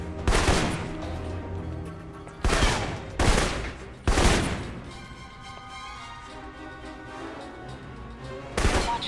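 Assault rifle fire in Alpha Protocol rings out in loud, sharp bursts, several separate volleys spaced a second or two apart, each cracking out and fading into a lingering echo between shots.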